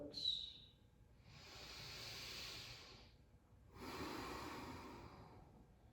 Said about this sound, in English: Feel your breath moving in, breath moving out.